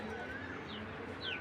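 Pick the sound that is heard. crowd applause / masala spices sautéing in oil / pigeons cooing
pigeons cooing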